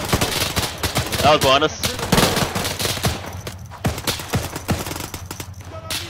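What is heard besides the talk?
gunfire in the video game Arma 3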